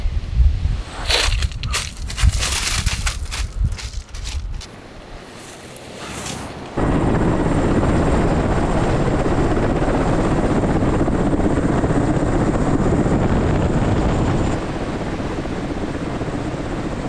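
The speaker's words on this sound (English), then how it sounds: "Took the helicopter to the beach." Some clattering and handling noise, then a helicopter roars loudly and steadily up close, a continuous rotor and wind rush for over ten seconds.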